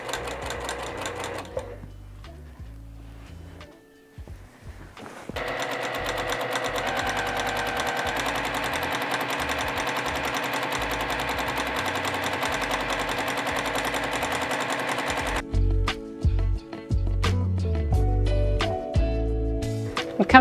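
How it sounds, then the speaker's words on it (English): Sewing machine stitching a long seam down a quilt back, a steady close mechanical whir running at an even pace with brief starts and stops, no voices. "I'm gonna go nice and slow and steady and sew all the way down until I finish all"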